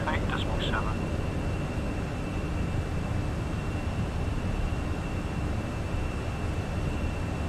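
Inside a Fenix A320 cockpit in MSFS 2020, a steady loud broadband engine and airflow roar fills the whole stretch as the landing gear retracts, with a faint whine in the background and no distinct clunk.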